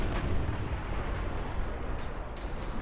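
Rapid 5 and 6 inch naval guns firing in a battleship game, heard as a dense continuous rumble of overlapping booms and blasts, loud and unbroken with no clear gaps, no speech.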